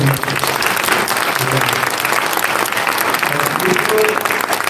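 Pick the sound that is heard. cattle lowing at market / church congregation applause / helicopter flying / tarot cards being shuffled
church congregation applause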